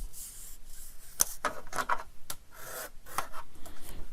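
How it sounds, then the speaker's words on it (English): Paper is creased and folded up into a peak by hand for a craft project, giving close, soft rubbing and crinkling strokes in irregular bursts with short pauses between them. "we're going to fold this part up into the peak"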